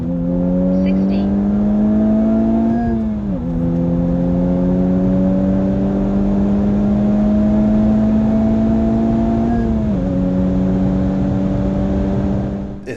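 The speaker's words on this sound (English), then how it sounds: "It seems like I'm hitting the rev limiter." A Honda Civic Type R accelerates hard from inside the cabin, its engine note rising steadily in pitch through two gear changes and holding near the rev limiter, loud and continuous.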